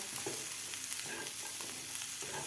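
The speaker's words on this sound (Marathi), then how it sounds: "मसाल्यामध्ये शेंग व्यवस्थित परतून घेतलेले आहे" Cowpea pods are stir-fried in a dry spice masala for a Maharashtrian sukhi bhaji. A soft, steady pan sizzle carries faint scrapes and light stirring taps, fairly quiet and close.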